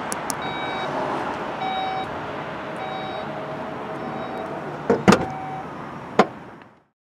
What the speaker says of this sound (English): a couple of buttons up here to lock the vehicle and close the trunk lid